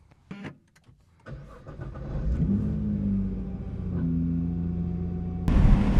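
A Nissan GT-R starts up on the road with a few short clicks and thumps, then its engine settles into a deep, close rumble that rises as it revs. A sharp surge of louder noise hits at the end.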